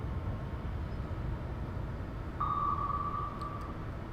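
In the video game Cold Waters, a thin, steady sonar tone from an approaching torpedo emerges over low rumbling underwater noise, holding for about a second before fading.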